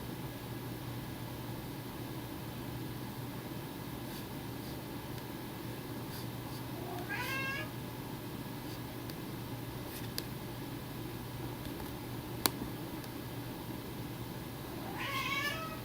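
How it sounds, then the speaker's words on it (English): A cat meows for food twice, with short rising cries partway through and again near the end, set against a steady indoor hum with no talk. "Notice Oreo's the only cat who's asking for food"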